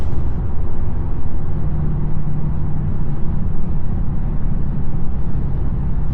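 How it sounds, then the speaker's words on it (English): Loud, steady low-pitched engine drone with a continuous rumbling roar from a 2025 Ram 3500 HO Cummins diesel truck holding back under exhaust braking. "Exhaust brake."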